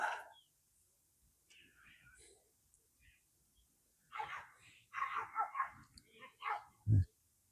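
Several dogs bark faintly from the far bank of a still river during a roach fishing session, in short bursts amid quiet whispered talk close by, with one nearer thump at the end.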